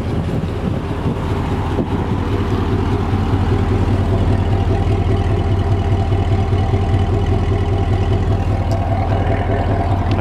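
A 2007 Chevrolet Corvette with a Corsa exhaust and SLP intake idles steadily and close, a deep, even rumble that holds at the same level with no talk over it.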